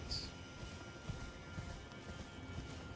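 Horse hooves clip-clop in a steady galloping rhythm while riding through the video game Elden Ring: Shadow of the Erdtree, moderately loud over a constant ambient wash.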